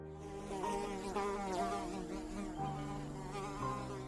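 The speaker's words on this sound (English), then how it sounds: "when you hear a housefly buzzing around your home, you might be annoyed by the persistent sound" A housefly buzzes steadily and close by, its droning whine wavering in pitch as it moves, with no other sound around it.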